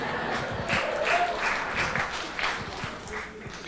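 A storytelling event audience applauds a storyteller, steady dense clapping that swells and fades slightly across the whole stretch.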